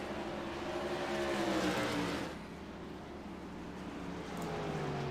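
Race cars run side by side on an oval track in a close battle, their engines droning steadily with rising and falling pitch as they pass, loud and continuous with no break.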